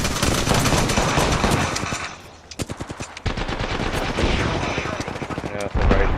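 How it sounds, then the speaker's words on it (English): Bursts of automatic weapon fire in the video game Apex Legends, loud, rapid and dense, dropping briefly to a few sharp separate shots before the heavy firing resumes, with a voice speaking over it. "there's someone shooting down there as well"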